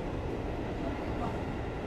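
Steady rumbling drone from the new Batavia passenger train running from Jakarta to Solo, a continuous rolling noise heard from inside, with no clear breaks.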